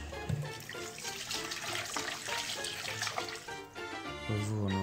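Potato pieces, peeled and cut into thick chunks, washed under a running kitchen tap, giving a steady, fairly loud splash of water throughout with a few clattering knocks.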